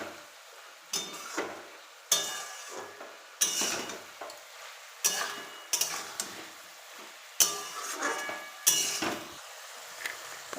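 Spinach being stirred in a pan for a Bengali spinach and prawn dish, with repeated scraping strokes of a utensil against the pan every second or so over a soft sizzle, close and moderately loud.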